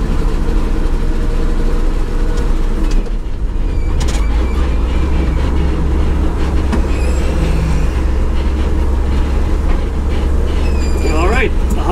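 A 1965 Ford F350 tow truck engine rumbles loudly and continuously as it drives in first gear near the shift to second, with mechanical rattling and a whine throughout. A voice speaks faintly under the engine.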